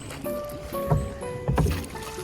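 Small rowing boat on the water in Madrid, with children aboard, making soft splashes and knocks as oars dip in, two sharper splashes standing out over a murmur of outdoor background noise.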